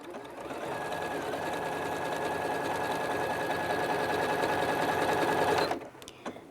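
A Janome computerized sewing machine runs a steady, close-up stitching drone for several seconds. It then stops as it locks off the seam, and a couple of brief mechanical clicks follow while the thread cutter trims the thread.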